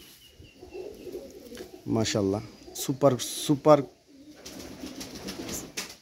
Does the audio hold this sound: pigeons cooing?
yes